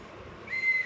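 A young girl whistling: a single thin, faint, high-pitched whistle tone appearing briefly over quiet room background.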